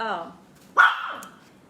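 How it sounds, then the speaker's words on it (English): A dog barks once, a single sharp close bark over a quiet indoor background, following a moment of a person talking. "she's barking at someone"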